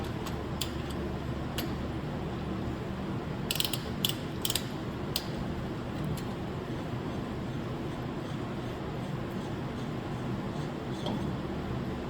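A ratchet and a 2 3/8 inch round-cornered socket loosening the outer axle nut on a Dana 60 or 70 axle, giving a few quick clusters of sharp metallic clicks over steady workshop hum, with no talking.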